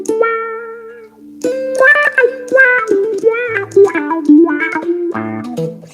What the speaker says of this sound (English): The wah with the plate reverb.